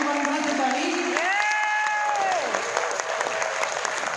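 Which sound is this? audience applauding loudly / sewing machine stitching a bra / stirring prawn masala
audience applauding loudly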